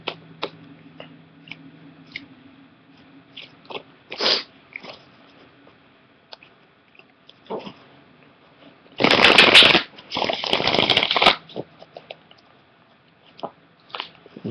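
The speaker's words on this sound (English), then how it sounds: "You can skip ahead if you want through all this shuffling business." Cards being shuffled: scattered soft taps and handling, then two loud riffle shuffles in quick succession, followed by more quiet card handling.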